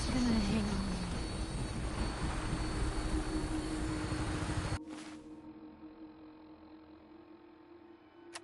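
Aircraft engine roaring at takeoff in the Fallout 4 video game, a loud sustained broadband drone with a rising whine that cuts off abruptly midway, leaving a quieter steady hum.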